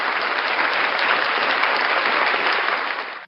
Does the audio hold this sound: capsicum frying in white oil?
no